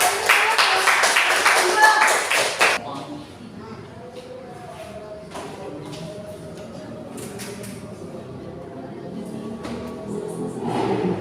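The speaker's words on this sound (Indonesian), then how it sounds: "Ayo tepuk tangan dulu" A class of pupils claps hands together in a burst of dense, lively applause lasting a few seconds, then it stops, leaving a quieter room with faint movement and distant voices.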